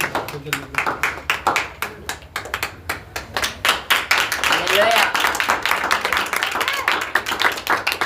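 A church congregation applauds with rapid, dense hand clapping that builds and stays loud throughout, while a voice speaks over it.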